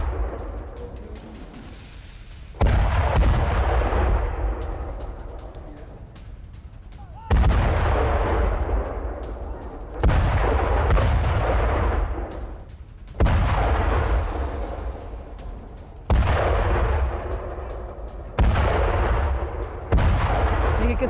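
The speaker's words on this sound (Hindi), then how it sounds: "किस तरह से एक के बाद एक धमाके किए गए।" Artillery fire and explosions from the Russia-Ukraine war strike as a string of heavy, loud booms a few seconds apart, each one rolling off into a long fading rumble.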